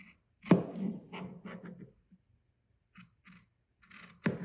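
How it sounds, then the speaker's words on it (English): Scissors make a sharp snip at a placket corner while cutting fabric for a collar-and-placket sewing project, followed by a few softer trailing cuts and handling sounds, with a second crisp snip at the end. "I'm going to make a small snip from the corner to just shy of the marking."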